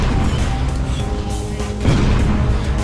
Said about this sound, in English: Oh, I was too close to the explosion.